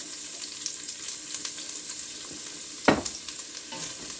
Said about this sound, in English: I am going to saute this for about 5 to 6 minutes because I want my onion to get soft and translucent